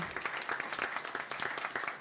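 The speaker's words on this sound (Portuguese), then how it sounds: "eu peço uma salva de palmas para essas meninas, porque elas merecem" An audience applauds the women organizers at a smart-cities event with steady, close clapping that stays dense and even for two seconds, with no talking.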